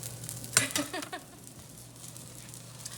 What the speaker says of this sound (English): Once you start hearing it sizzle, you start checking them to see if they're ready to get turned.